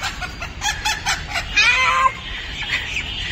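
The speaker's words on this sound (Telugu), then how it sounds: "2 కోళ్ళు దొరికినాయి అప్పుడే." Chickens cluck and squawk loudly up close as they are caught, a burst of agitated calls rising midway over a steady rustling background.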